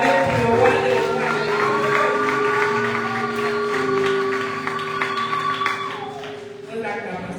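Church congregation cheering and acclaiming during a French-language service, a sustained crowd roar of voices and some clapping under a steady musical drone, with speech mixed in throughout.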